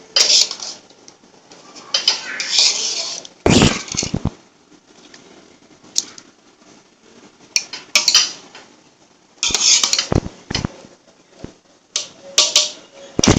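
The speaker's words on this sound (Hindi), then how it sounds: "और इसे अच्छी तरह हिला देंगे हम।" A spoon scrapes and clanks against a pot while yakhni pulao rice with golden-brown onions is stirred, coming in several loud, irregular bursts of metallic knocks separated by quieter stretches.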